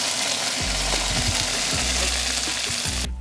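Garlic, carrot, burdock and onion stir-fry in a pan over medium heat, giving a loud continuous sizzle broken by repeated scraping stirs.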